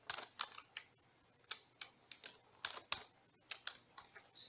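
Clicks of typing on a computer keyboard, a dozen or so sharp, close keystrokes in an irregular rhythm with short pauses between bursts.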